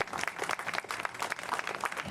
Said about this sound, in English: Our platinum sponsor, we want to give them a big round of applause, Jim Gallant, in memory of Eileen Gallant.